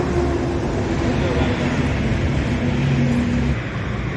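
A car is being driven out to head home after a hotel stay, its steady engine hum and road rumble running continuously and fairly loud, with a low engine drone shifting in pitch near the end.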